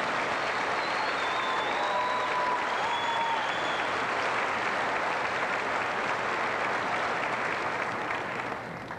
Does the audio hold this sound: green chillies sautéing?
no